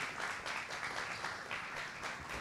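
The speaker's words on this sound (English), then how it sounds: "Can we have a big round of applause for Pradeep, please?" An audience claps continuously in a dense, even round of applause for a guest being introduced, steady and fairly soft throughout.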